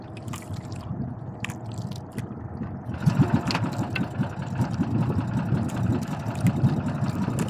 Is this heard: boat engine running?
yes